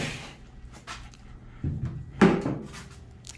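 The hood of a Chevy Nova with a 6.0-liter LS engine is lifted open: a few close creaks and clunks, then a louder metallic thump as it swings up.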